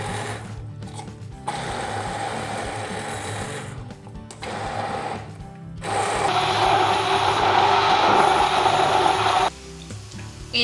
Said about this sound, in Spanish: Ahora vamos a triturar las espinacas con el sofrito que hemos hecho de tomate y cebolla.